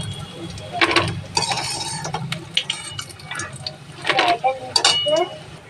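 Fried bora fritters are strained out of a hot wok, with metal ladle scrapes, clinks and oily sizzling close by, and a voice talking over the clatter.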